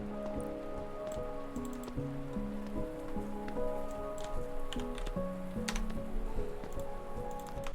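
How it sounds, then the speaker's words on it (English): A steady rain sound effect hisses evenly with scattered ticking drops, mixed under low sustained musical tones. "Now into the rain."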